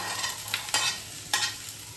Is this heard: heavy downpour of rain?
no